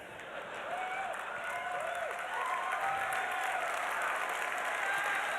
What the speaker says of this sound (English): I'm going to assume that applause is for my mother